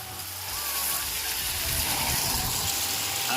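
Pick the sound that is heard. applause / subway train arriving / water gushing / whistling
water gushing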